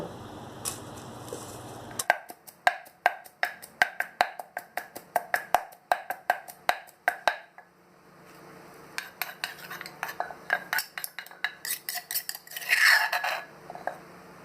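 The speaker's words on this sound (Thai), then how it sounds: "ดับแรกนี่เขาจะโครกกระเทียมก่อนเจ้า" Garlic pounded in a mortar for a northern Thai chili paste: about twenty sharp, rhythmic clacking strikes, close and crisp, followed by looser clattering and scraping.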